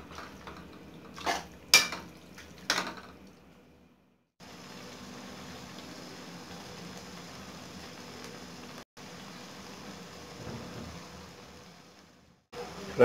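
Palak kofta, spinach with koftas, cooking in a pot: a few sharp clinks of a utensil against metal, then a soft, steady simmering hiss that runs on briefly, broken by short pauses.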